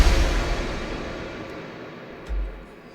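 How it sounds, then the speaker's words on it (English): Massive cinematic trailer hit: a loud, deep boom with a bright noisy wash that decays slowly, followed by a second, smaller low thump near the end. "Massive trailer hit from Keep Forest, sounds amazing"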